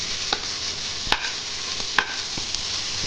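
Onion and green chillies hitting a hot frying pan for egg chowmein: a faint steady sizzle under a few sharp clicks and taps of a utensil against the pan, spaced irregularly, with no talking.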